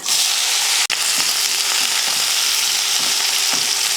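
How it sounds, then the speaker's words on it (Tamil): Oil sizzles and crackles steadily in a kadai, with small pops from mustard seeds spluttering throughout as onion fries, close and continuous. "ஒரு கடாய் வச்சு எண்ணெய் ஊற்றிடலாம் எண்ணெய் காஞ்சதுமே கொஞ்சம் கடுகுழுந்து கடுகு பொரிஞ்சதுமே ஒரு வெங்காயம்"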